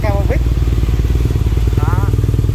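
A BMW RT motorcycle with a loud Akrapovic exhaust idles in a steady, throbbing rumble, close and continuous, while someone talks over it.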